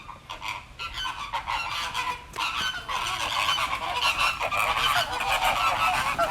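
A flock of Caribbean flamingos gives a chorus of loud, goose-like honking calls, overlapping and continuous, fairly close, with no talking.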